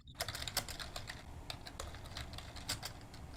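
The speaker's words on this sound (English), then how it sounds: "I hear people typing" Several people typing on computer keyboards in a room, a steady patter of soft key clicks with occasional louder taps, fairly faint and without talk.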